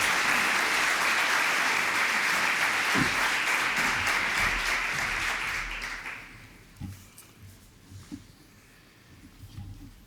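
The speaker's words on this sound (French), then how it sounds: "Je vous propose d'accueillir sous applaudissements le président de l'Union départementale des papillons blancs, Claude Oquet" An audience at a conference on parents and disability applauds steadily as the head of a regional association is welcomed to the podium, a dense, full wash of clapping that fades after about six seconds to a few scattered claps and room noise.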